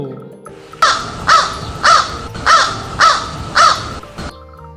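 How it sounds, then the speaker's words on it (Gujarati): A crow caws six times in a steady, evenly spaced series, each call loud, harsh and close, over a faint low background. "કાગડો,"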